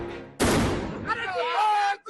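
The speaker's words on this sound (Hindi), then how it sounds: "यहाँ पर आतिशबाजी शुरू हुई है" Fireworks go off at a Congress party office during an election celebration: a sudden loud burst of crackling bangs starts abruptly and keeps going, with whistling tones over the dense crackle near the end.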